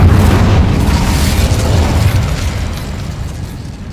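Incendio fire spell blast in Hogwarts Legacy, a loud, dense roaring burst that holds strong for a few seconds and then slowly tapers off, with no voices over it.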